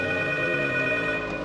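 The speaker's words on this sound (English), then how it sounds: "the phone will start ringing." A telephone rings in a horror video game, a steady, loud electronic ring with bright sustained tones that fills the whole moment and cuts off abruptly at the end.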